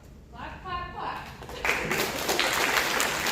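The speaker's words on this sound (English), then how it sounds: "And then, clap, clap, clap." A short burst of clapping erupts after a brief voice, continuing as dense claps to the end.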